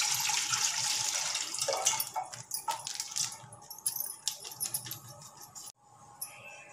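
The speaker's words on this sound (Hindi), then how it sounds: "अब हम अपना दूध इसके अंदर डालते हैं।" Full cream milk poured from a container into a cooking pot, a close trickling and splashing pour that thins into sporadic drips and stops.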